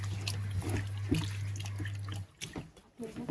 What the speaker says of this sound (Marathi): पाण्यामध्ये चांगला धुवून घेऊया